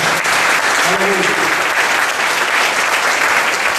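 A church congregation claps for the Lord during a Sunday morning service, loud and sustained across the whole stretch, with a faint voice or tone briefly sounding underneath.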